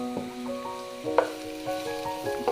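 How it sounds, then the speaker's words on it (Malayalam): Onion, ginger, green chilli, garlic and curry leaves fry in a pan with a soft, steady sizzle. Faint scrapes of stirring break through now and then, close by. "ഒരു ലൈറ്റ് ഗോൾഡൻ കളർ ആകുന്നത് വരെ ഇതൊന്ന് ഫ്രൈ ചെയ്തെടുക്കണം."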